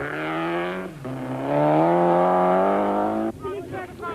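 Rally cars at full speed on the 1992 Swartland Rally, blasting through a farmyard: a loud, close engine roar that climbs in pitch, drops at a gear change, surges again and then cuts off abruptly.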